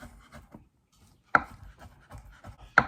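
A chef knife chopping on a cutting board, a few soft taps and two sharper close chops separated by near silence.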